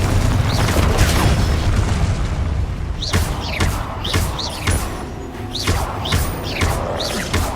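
Confringo fire spell blasts in Hogwarts Legacy go off as repeated booming impacts and whooshes over continuous loud game action and music.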